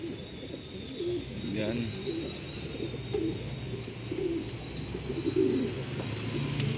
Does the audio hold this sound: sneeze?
no